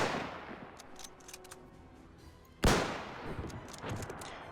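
Gunfire and artillery in a World War One video game: a steady crackle of distant fire, then one loud, sharp blast that rings out and fades into scattered shots.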